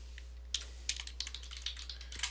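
Quick bursts of keystrokes on a computer keyboard while entering C++ code, close and clicky in short irregular runs over a low steady hum.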